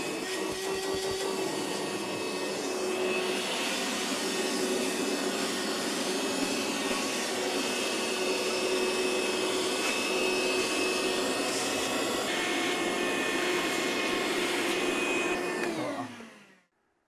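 A vacuum cleaner runs loud and close in a cabin kitchen, a steady high whine with a rushing airflow that holds for about sixteen seconds before winding down as it is switched off, with no speech.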